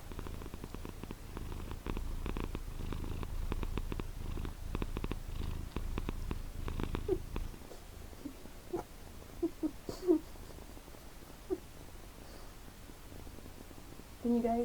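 A cat purrs up close, a steady low rumbling pulse for about seven seconds that then fades, followed by a few small whimpering cat sounds and a person speaking briefly at the end.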